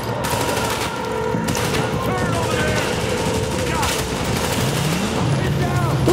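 Rapid gunfire bursts and scattered shots crackle through a firefight in The Division online shooter, loud and continuous, with players' voices talking over the shooting.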